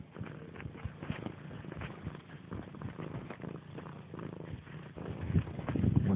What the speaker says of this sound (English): Cats don't attack the blanket.